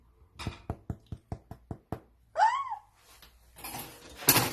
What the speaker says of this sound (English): Knock on the bottom.